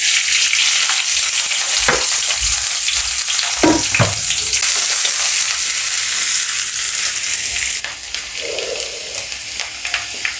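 Taro frying in hot oil with chopped onion, a loud continuous close sizzle broken by a few scraping stirs, easing somewhat toward the end.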